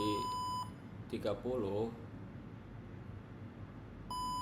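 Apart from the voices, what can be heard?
microcontroller temperature monitor buzzer beeping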